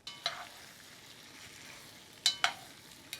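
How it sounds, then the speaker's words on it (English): Pork browning in a pot for Cajun jambalaya, a soft steady sizzle in the background broken by a few sharp metallic clanks of a utensil against the pot, with no one talking. "this meat's browning up pretty good"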